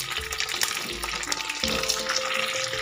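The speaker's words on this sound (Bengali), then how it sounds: "এখানে তেলটা আমার গরম হয়ে গেছে। এতে আমি দিয়ে দিচ্ছি কেটে রাখা পটল এবং কেটে রাখা আলু" Cut pointed gourd and potato pieces drop into hot oil and fry with a loud, dense, crackling sizzle, broken by a few low knocks and scrapes from a stirring utensil.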